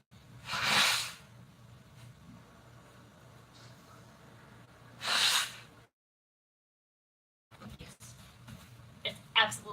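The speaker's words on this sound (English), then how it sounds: "I gotta blow my nose again," Someone blows their nose twice in a home kitchen while cooking, two short, loud, breathy bursts a few seconds apart over a low background hum. A clipped silence follows, then faint kitchen noises.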